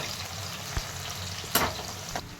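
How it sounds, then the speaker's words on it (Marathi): Banana chips deep-frying in oil give a continuous soft bubbling sizzle, with a few brief clinks and a louder splash-like burst in the middle, nearby and moderately quiet, with no speech. "तेलात टाकले तळायला आता तळून घ्यायचं"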